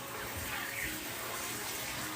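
Cold water runs steadily from a tap while tie-dye shirts are rinsed, a continuous hiss and splash that is fairly faint and even throughout.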